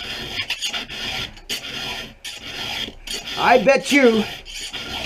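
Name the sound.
file sharpening chainsaw chain teeth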